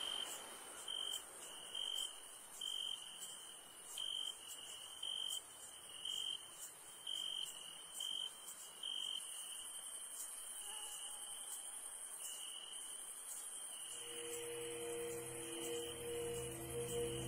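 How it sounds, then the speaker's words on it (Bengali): Dense, steady cricket chirping on a still night by a village path near a boat landing, a high continuous pulsing trill that stays loud throughout, with a low hum rising toward the end and no talking. "ঝিঝি পোকার ডাকে কানে তালা ধরে যাচ্ছিল"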